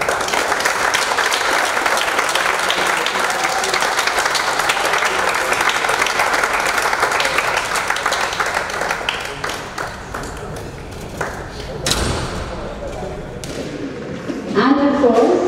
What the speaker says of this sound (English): Shigant Sashadri and Rohit Gore, please give them a big round of applause.